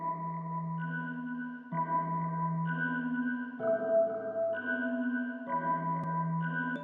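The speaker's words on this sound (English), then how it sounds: "Then I used another bell sound that sounds like this." A bell synth patch with light reverb in a hip-hop beat, playing a repeating melody of bright, ringing, sustained chord tones over a deep low note, steady and clear with no voices.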